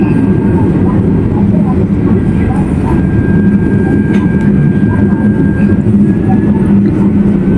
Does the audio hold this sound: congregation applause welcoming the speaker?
no